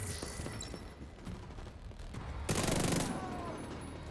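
An automated turret firing in The Division 2, a faint, rapid crackle of shots in the distance under a low game background, with a brief louder burst partway through.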